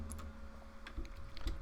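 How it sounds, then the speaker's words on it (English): Sparse keystrokes tapped on a computer keyboard while entering a European Nintendo Switch eShop code, a few soft clicks spread across a quiet moment over a low steady hum. "Typing it in now."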